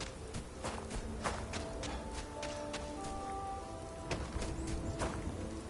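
Steady rain patters with scattered sharper taps in Starfield, while faint tonal game sounds and soft footsteps run underneath.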